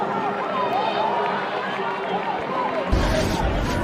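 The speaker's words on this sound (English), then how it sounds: "Terrific crowd here." Spectators at a Georgetown versus Notre Dame college men's lacrosse game make a broad, steady crowd roar with a commentator talking over it, and a sharper surge of noise breaks in near the end.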